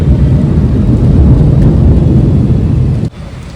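A deep, loud rumble of thunder from a lightning storm in Thane rolls continuously with the hiss of heavy rain, then cuts off abruptly near the end.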